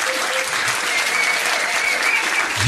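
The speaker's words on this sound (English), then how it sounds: "Come on, give them a round of applause anyway." Steady audience applause fills the room at a pub trivia quiz at The Granta, a dense, even wash of clapping hands sustained throughout with no voices on top.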